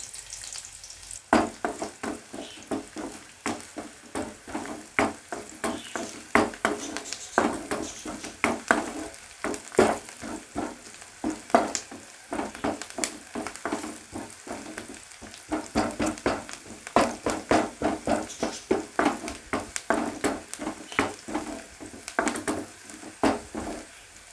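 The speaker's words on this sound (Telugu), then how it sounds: "ఇలా వేయించుకోవాలి. ఆయిల్, కట్ చేసుకున్న ఉల్లిపాయ, పచ్చిమిర్చి యాడ్ చేసుకున్నాం." Chopped onion and green chili fry in oil in a pan, a continuous sizzle broken by a steady run of sharp spatula scrapes and taps against the pan throughout.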